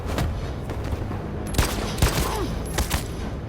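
Gunfire in Detroit: Become Human: a rapid fusillade of loud, sharp shots and bursts, close and overlapping, over a noisy background.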